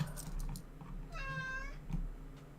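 A cat gives a single clear meow, rising then falling, over a low background hum, fairly faint.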